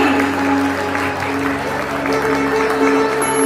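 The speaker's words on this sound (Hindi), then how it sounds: "जोरदार तालियों से स्वागत कीजिए बच्चों का" An audience claps to welcome twin children at a staged Sita fire-ordeal play for a Mahavir Jayanti celebration, steady applause laid over a sustained musical drone and hum.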